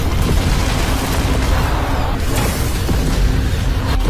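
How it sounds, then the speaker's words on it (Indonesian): A huge explosion from laser fire in an animated sci-fi series, a dense, sustained loud rumbling blast that fills the whole stretch with a few sharper bursts inside it. "Ledakan yang sangat besar pun terjadi akibat tembakan laser yang dikeluarkan oleh para bawahannya Nola Shan."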